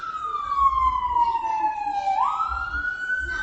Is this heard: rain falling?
no